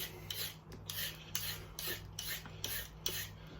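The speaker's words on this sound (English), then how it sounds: "So let's just peel the carrot." A carrot is peeled by hand for a carrot slaw, with a steady run of rhythmic raspy scraping strokes, close and moderately loud, about four or five passes, with no talking.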